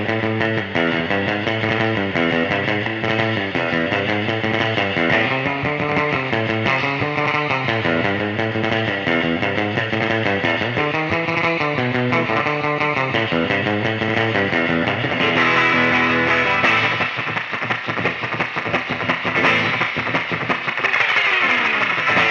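Electric guitar chords through a Neunaber Immerse Reverberator pedal set bright with tone turned up: splashy reverb, a steady strummed rhythm and a shimmering wash that lingers between notes.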